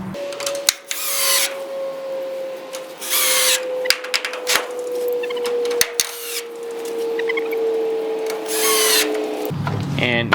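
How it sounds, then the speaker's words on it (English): Power drill driving screws into wooden shelf brackets for a rabbit watering setup, several short whirring bursts spread through the clip with a steady tonal hum underneath, close and fairly loud. "So now I can go ahead and attach the rest of my screws in here."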